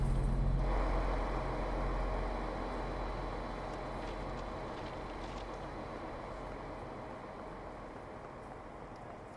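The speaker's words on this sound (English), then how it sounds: "425 electric train." A class 425 electric train in a train simulator game hums and rumbles steadily as it runs, with a low drone that eases slightly over the stretch and no talking.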